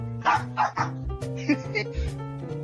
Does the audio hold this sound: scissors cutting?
no